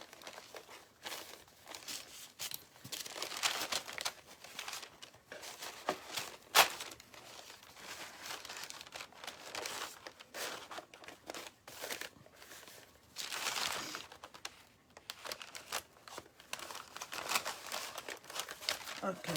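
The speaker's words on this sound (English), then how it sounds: "I just want to cut the paper to size." Decorative paper cut to size with scissors and creased by hand for a decoupage tissue-box project, giving soft crinkling, rustling and snipping noises close to the mic, with speech mixed in.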